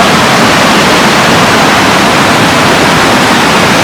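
A waterfall pours down in a steady, dense roar of rushing water that stays loud and unbroken throughout. It fills the whole scene and no voices are heard.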